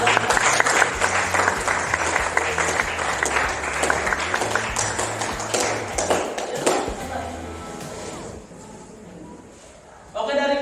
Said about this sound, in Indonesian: kasih tepuk tangan dulu untuk